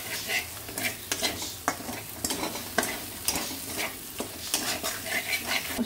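Ground turmeric, coriander and cumin sizzle in a pan for matar paneer while a spatula stirs them, giving soft steady frying hiss with repeated scraping strokes close by.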